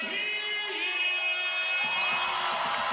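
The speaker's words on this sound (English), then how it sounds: "And that gets the crowd really excited here at the DIA" A live arena crowd at an indoor soccer match cheers and whoops loudly after a goal, a sustained roar of many voices filling the space, with a steady tonal drone underneath.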